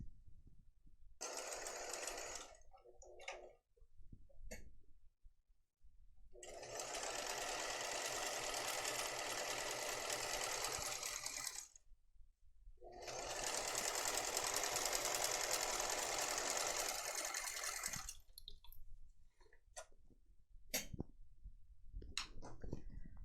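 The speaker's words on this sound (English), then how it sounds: "I just watch and I sew all the way down this edge to close the top of the pocket" Close, loud sewing machine runs stitch along the top edge of a tote bag pocket, with a long steady burst, a brief stop, another long run and short choppy bursts around them.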